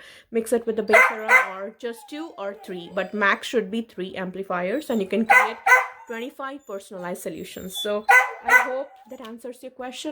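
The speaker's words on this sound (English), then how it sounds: "So my puppy is going crazy." A puppy barks intermittently in the background of an indoor skincare product demonstration, its yips partly buried under a woman's steady, close talking throughout.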